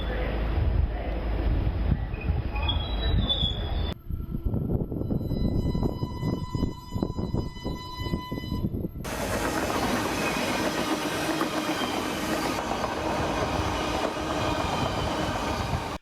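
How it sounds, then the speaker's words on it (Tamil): A Great Western Railway battery-powered train running at around 30 to 40 mph, with a steady rolling rumble and rail noise throughout, shifting in tone as the recording changes viewpoint. "மணிக்கு 30 மைல் முதல் 40 மைல் வேகத்தில் பயணித்த பேட்டரி ரயில்"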